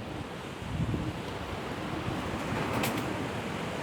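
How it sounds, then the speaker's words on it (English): Steady strong wind blowing outdoors at a pigeon loft while racing pigeons fly, a continuous broad rushing roar with mic buffeting and a brief brighter flutter near the end, no voices. "I don't mind flying them in this bit extra windier weather."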